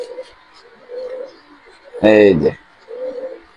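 Racing pigeons at a pigeon farm coo in low, soft bursts, with a louder call in the middle and a person speaking briefly.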